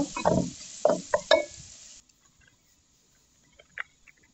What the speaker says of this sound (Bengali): এখন আমি রসুন কুচি দিয়ে দিতেছি, মানে পলা রসুনটা